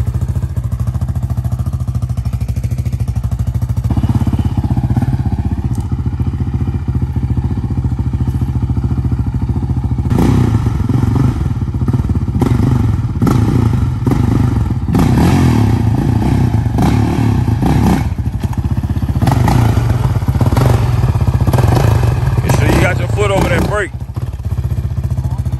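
Yamaha Raptor 700 ATV engine while riding wheelies, a loud continuous close engine drone that surges and clatters mid-way, with people talking over it.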